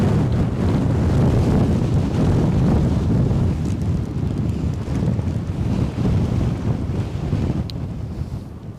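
Strong gusty wind at Edinburgh airport buffets the microphone in a continuous low roar that swells and eases in waves, loud and close, with no talking.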